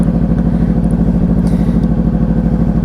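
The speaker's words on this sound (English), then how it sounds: "you'll hear the bike start up" A motorcycle engine idles close by with a steady, even low-pitched putter and rapid pulsing beat, loud and constant throughout with no voices over it.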